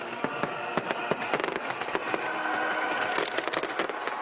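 Disney holiday fireworks show, Heartbeat of Freedom: a dense, continuous stream of crackling pops and sharp bangs over a steady rumbling wash, heard from the crowd without talking.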